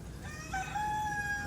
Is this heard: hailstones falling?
no